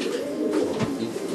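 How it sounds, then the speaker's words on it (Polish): A breeding pigeon coos steadily at close range, a low, throaty rolling call that carries through the whole short moment with no speech over it. "Czyli zakończyliśmy oglądanie gołębika rozpłodowego."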